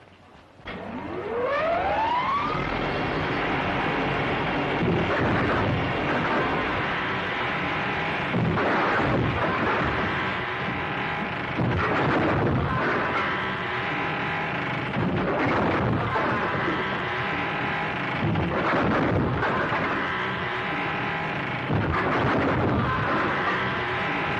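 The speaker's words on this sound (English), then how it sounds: "Firing at him from the window" Gunfire from a window in a 1935 western, with repeated loud shots and bursts over sustained noisy action and a rising whine at the start, heard without talk.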